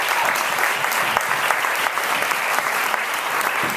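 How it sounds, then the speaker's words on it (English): An audience at a summit on homeless LGBT youth applauds the speakers with loud, continuous clapping. The sound is even and full throughout, with no voices over it. "Round of applause for these people, please."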